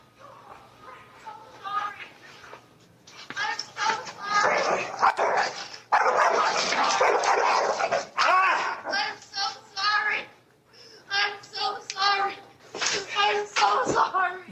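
A dog barking and yelping during a dog attack, heard as recorded playback with agitated sharp barks and whimpers that come in bursts amid shouting and raised voices.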